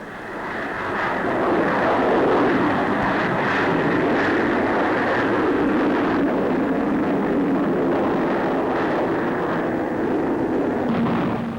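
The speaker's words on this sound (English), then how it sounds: "Here is the de Havilland 110." A de Havilland 110 twin-engined jet fighter flies past at the Farnborough Airshow, its steady, loud jet roar filling the whole stretch with no voices.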